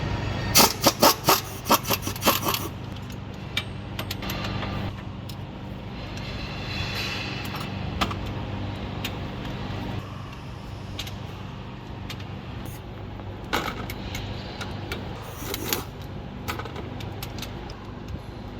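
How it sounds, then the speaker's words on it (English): A 15 mm socket on a ratchet loosening front differential bolts on a Ford Super Duty truck, with a rapid burst of ratcheting clicks at the start followed by scraping, tool handling and intermittent metallic clicks. "We're going to be using a 15 mil socket to get all these bolts out."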